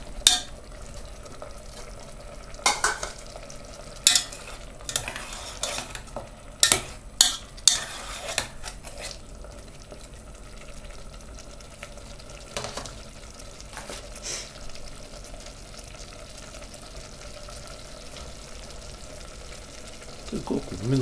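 Potatoes fry in a pan with onion and chicken under a low, quiet sizzle, broken by scattered scraping and clattering strokes of a stirring utensil and a few faint clanks toward the end.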